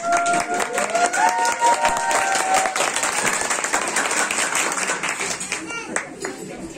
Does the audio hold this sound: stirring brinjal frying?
no